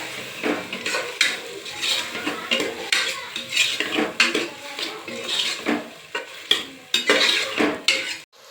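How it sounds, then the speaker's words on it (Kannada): Three large tomatoes being fried and stirred in a pan, with loud, close clattering of a metal spoon against the pan in frequent irregular strokes over a steady sizzle. "ಚೆನ್ನಾಗಿ ಟೊಮೆಟೊ ಸಾಫ್ಟ್ ಆಗೋವರೆಗೂ ಫ್ರೈ ಮಾಡ್ಕೊಳ್ಳಿ"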